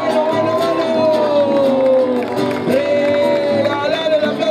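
A large rodeo crowd cheers and whoops over a loud, sustained tonal sound, with voices mixed into the noisy din.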